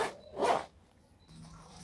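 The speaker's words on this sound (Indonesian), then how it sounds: "Oke, resletingnya lumayan baik. Di sebelah sini suaranya." The zipper on the front pocket of an Arei Bromo 60L carrier backpack is pulled in two quick, rasping strokes close to the microphone, followed by faint rustling of the fabric.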